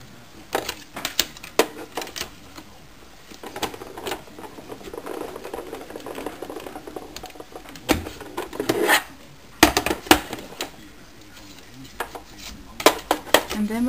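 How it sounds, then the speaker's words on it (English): Cuttlebug embossing machine cranking card paper through its plates: repeated mechanical clacks and rattling knocks with a grinding, ratcheting texture, close and fairly loud throughout. "I will first emboss it with the Cuttlebug."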